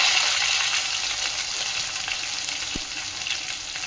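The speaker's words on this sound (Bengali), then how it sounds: "তা আমি তেলের মধ্যে জিরে দিয়ে দিচ্ছি, আর এখন দিয়ে দেব এর মধ্যে আদা বাটা আর কাঁচা লঙ্কা" Cumin, ginger paste and green chili sizzling in hot oil in a pan, a steady close crackle and hiss with faint stirring and no talk.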